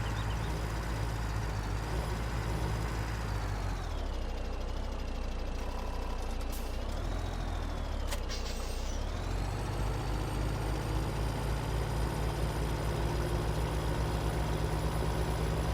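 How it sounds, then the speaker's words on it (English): Skid steer engine in the Farming Simulator 17 video game, a steady low diesel drone running throughout with a pitch dip and recovery midway, loud and continuous with no talk. "And we'll get the little skid steer moved over."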